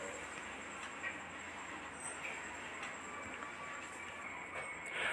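Mail train arriving at a railway station gives a faint, steady rumble of rolling wagons with light clinks and a thin high squeal running through it.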